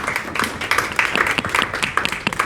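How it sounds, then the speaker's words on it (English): An audience claps for a young girl at an evening event, steady dense applause in a roomy hall with no voices over it. "Let us have a very loud cheer for this young girl."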